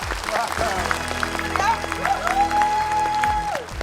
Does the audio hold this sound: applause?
yes